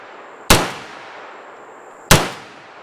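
Two sharp 9mm Fenix rounds fire from a Beretta PMX-S pistol with its brace folded, loud close cracks about a second and a half apart, each followed by a short ringing decay.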